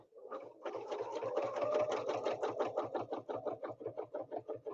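A sewing machine stitches a quilt along a template in a fast, even run of mechanical clicks and whirring, fairly quiet and close, with no talking.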